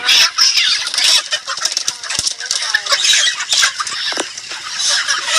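Broiler chickens being weighed in batches of ten cluck and squawk busily close by, with overlapping calls and scattered clatter.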